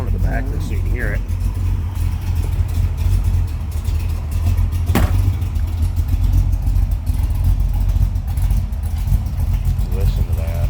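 A 1966 Ford Mustang coupe with a 396 cubic inch stroker V8 and 3-inch stainless exhaust idles with a deep, steady, lumpy rumble heard from behind the car, as someone talks over it.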